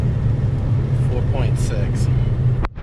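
Mopar car on a 0-60 pull with wheel spin on rough pavement, a loud steady engine roar dominating, rising tire squeal partway through, then an abrupt drop near the end.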